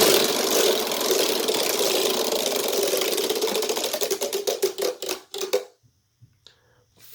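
A homemade Wheel of Fortune model wheel spins with a loud, rapid ratcheting clatter of its flapper against the pegs, slowing into distinct spaced clicks before it stops, followed by near silence.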